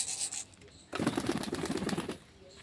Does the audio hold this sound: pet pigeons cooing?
yes